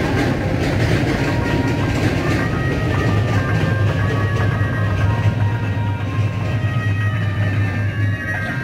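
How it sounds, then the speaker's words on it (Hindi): Poona Himachal Express train crossing an old British-era bridge, a steady loud rumble with rail clatter and a low droning hum running throughout, close and continuous with no talk. "ये पूना हिमाचल एक्सप्रेस पास हुई है ब्रिज।"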